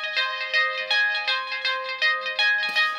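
Massive VST synth preset with an overdone envelope attack, sounding as a bright, buzzy harmonic tone pulsing in repeated swells about every half second, alone with no talk.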